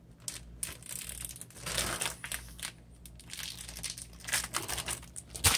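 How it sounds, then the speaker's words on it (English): A quart-sized plastic zip-top bag packed with portioned chicken for the freezer is zipped shut and pressed to force out air, giving close, steady crinkling and crunching plastic with no talking. "Zip it up. Try to squeeze out some of the air."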